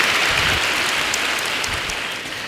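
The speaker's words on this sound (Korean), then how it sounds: "큰 박수 부탁드립니다" An audience at a university welcome event for new students applauds a guest speaker, a brief burst of dense clapping that gradually thins and fades.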